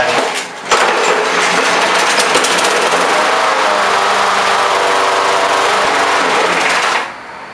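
A lawn mower engine runs loud and steady for several seconds with a rough, buzzing drone, running irregularly, then cuts off abruptly near the end.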